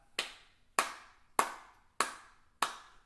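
Five sharp hand claps land at a steady, even pace, each ringing briefly in a quiet room, with no voices between them, as a class claps along to a piano song.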